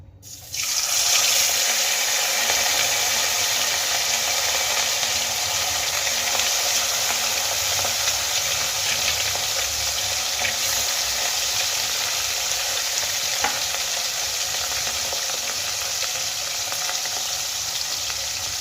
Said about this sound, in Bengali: এবার এই তেলের মধ্যে আমি খয়রা ইলিশগুলো এক এক করে ছেড়ে দেবো